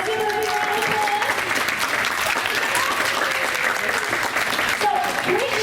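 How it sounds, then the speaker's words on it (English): Steady applause from an audience at a school board meeting for Mrs. Brittany Shea, dense and continuous throughout, with faint talk underneath. "give her a big round of applause"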